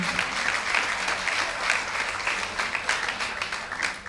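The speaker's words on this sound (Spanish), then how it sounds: "Así que les pedimos un aplauso también." An audience at an environmental panel event applauds, a dense, even wash of many hands clapping for several seconds, fairly close and with no talk over it.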